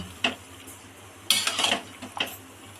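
A spatula stirs mochar ghonto, a Bengali banana-flower dish, in a pan with grated coconut and ghee after the gas is turned off, giving a few scraping, clinking strokes with quiet pauses between.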